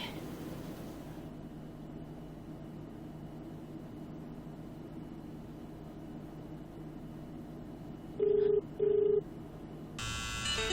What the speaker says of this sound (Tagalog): Why aren't you answering the calls, Freddy?